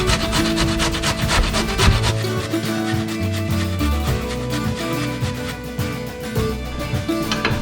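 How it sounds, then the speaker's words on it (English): Fresh carrots shredded on a kitchen grater for a salmon dish, a busy, continuous rasping scrape with repeated strokes, close and fairly loud, with background music or kitchen tones underneath and no talk. "So we're gonna shred some carrots."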